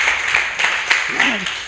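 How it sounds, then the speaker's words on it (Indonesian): Congregation applause at a church worship service in a Jakarta apartment complex, with rhythmic clapping at moderate volume and a brief voice or tone gliding over it near the end. "Berikan tepuk tangan buat dia"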